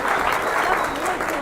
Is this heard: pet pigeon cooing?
no